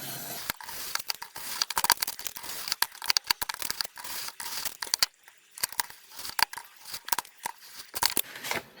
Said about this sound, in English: just keep trimming until it's all cut through